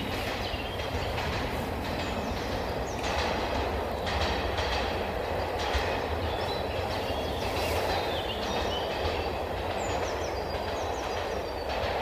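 A train rolls along railway tracks behind an outdoor sword-fencing training session, a steady broad rumble with faint clatter lasting the whole stretch at moderate distance, with no talk over it.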